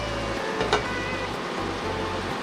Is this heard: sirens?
no